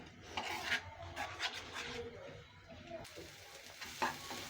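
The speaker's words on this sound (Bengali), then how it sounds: "যতক্ষণ পর্যন্ত তেলটা উপরে ভেসে না ওঠে আমরা এই মিশ্রণটা ভাজতে থাকব।" Salted hilsa fish spice paste being fried and stirred in oil over medium heat, soft sizzling with scraping utensil strokes against the pan, quiet and close, no talk.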